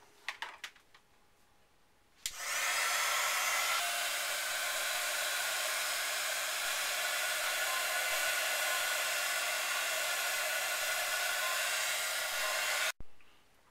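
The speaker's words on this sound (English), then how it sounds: "So now you take your heat gun" Heat gun blowing on melting embossing powder for a butterfly card, a steady loud airy whoosh that switches on abruptly after a few faint clicks and runs about ten seconds before cutting off.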